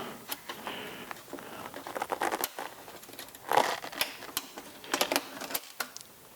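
A screw is turned out of a Dyson DC40 vacuum hose valve, giving a close run of small irregular clicks, ticks and plastic rattles with brief scraping bursts; no talking.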